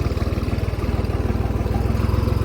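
A tractor's diesel engine idles with a steady, rapid low thumping rhythm, close by and constant throughout, with no voices.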